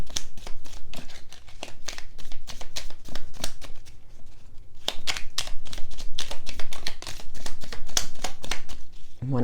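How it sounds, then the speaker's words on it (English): Cards are shuffled in rapid bursts of riffling and flicking, close up, with a brief pause midway before the shuffling resumes. "One more shuffle."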